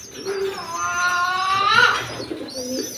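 Rescued Jalali pigeons on a rooftop farm give a close, clear, drawn-out coo that rises and falls over about two seconds, with a softer call at the end and quiet background noise.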